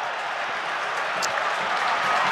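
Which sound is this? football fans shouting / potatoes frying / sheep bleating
football fans shouting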